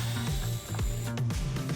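A manual screwdriver works a tight hinge screw loose on a first-generation Acura NSX glove box, giving close, repeated ratcheting clicks in short bursts with a brief pause midway.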